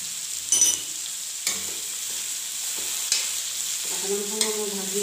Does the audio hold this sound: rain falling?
no